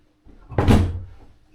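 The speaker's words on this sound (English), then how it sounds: "A very awkward sliding door to a bathroom." An awkward, broken sliding bathroom door is shoved along its track, giving a broad rumbling scrape that swells into a loud thud and then drags on more quietly as it settles.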